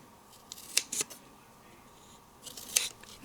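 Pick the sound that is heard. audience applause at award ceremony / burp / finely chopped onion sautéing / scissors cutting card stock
scissors cutting card stock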